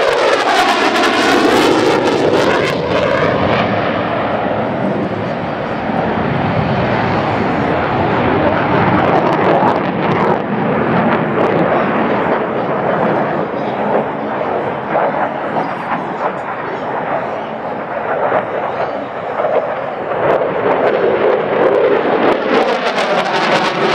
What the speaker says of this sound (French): Mesdames, messieurs, on peut l'applaudir, le Rafale.